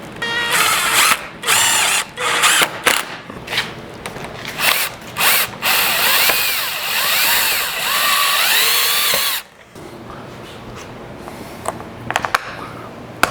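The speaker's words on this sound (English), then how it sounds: "Now we're going to put our screws back into the gate sockets." A power drill drives screws into vinyl fence gate sockets, with loud close whirring bursts and ratcheting clicks in an uneven stop-start rhythm, followed by a quieter stretch of handling noise.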